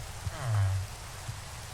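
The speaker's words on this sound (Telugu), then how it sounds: "అండ్ టైంకి వర్షం పడుతుంది గైస్" Rain falls in the Minecraft video game as a soft, steady hiss of drops on surfaces, continuous across the short stretch with a slight swell in the middle.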